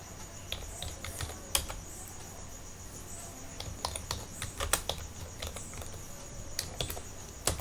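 Rapid, uneven keystrokes on a computer keyboard as a short QBasic program is entered, light clicks close by at a quiet level, no talk.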